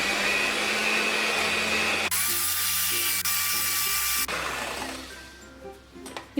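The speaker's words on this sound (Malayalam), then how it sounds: "ഇതിലേക്ക് ഈ 3 മുട്ടയുടെ വെള്ളയും 1/4 ടീസ്പൂൺ ഉപ്പും ചേർത്ത് സ്ലോലി ബീറ്റ് ചെയ്തിട്ട് വേണം ഇത് നമ്മൾ സ്പീഡിൽ ബീറ്റ്" An electric hand beater whips three egg whites with a pinch of salt for a Swiss roll, a steady high motor whir that shifts pitch as the speed changes, then winds down and stops near the end.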